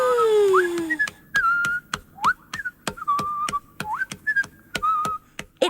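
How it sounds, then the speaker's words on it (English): A whistling penguin from a children's cassette story sound effect gives a string of bright, rising and sliding whistle notes, broken by sharp rhythmic clicks and taps, with no speech. "he heard the unmistakable sound of a whistling penguin."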